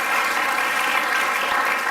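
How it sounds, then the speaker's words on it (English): An audience at a summer economic forum conversation claps together, a dense steady wash of applause at close range throughout, with no voices over it. "I think we need to give him a few round of applause for that."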